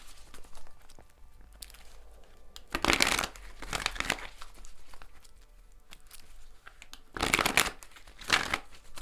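Tarot cards are shuffled close by in two short bursts of rapid, papery riffling, each about a second long, separated by quiet room tone.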